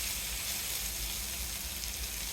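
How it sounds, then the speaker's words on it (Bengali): Eggplant fries in hilsa fish oil with a steady, even hiss of oil sizzling close by. The sound is soft and continuous, without break or talk. "করে নিলাম ইলিশ মাছের তেল দিয়ে বেগুন ভাজি।"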